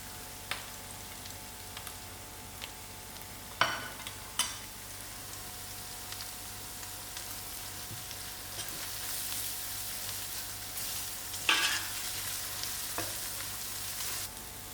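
Masala spices fry in a hot pan for a Durban-style fish curry, giving a soft continuous sizzle with occasional sharper pops and stirring scrapes, close and fairly quiet.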